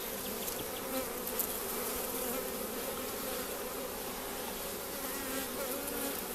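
Honey bees buzz in a steady, dense drone around a newly installed first beehive, many insects close to the microphone with no talk.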